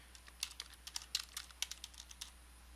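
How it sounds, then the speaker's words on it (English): Quick, light keystrokes tap out a name on a computer keyboard, an uneven patter of about a dozen close clicks over a few seconds. "And I will just type in Mary Berry, right?"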